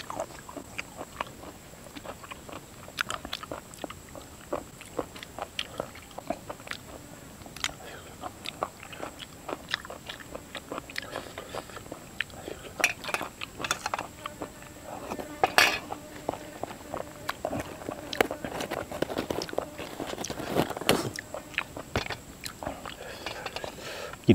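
Chewing and biting while eating a spicy apple snail curry cooked with rice paddy herb, with clinks of dishes and cutlery scattered throughout, close and fairly steady.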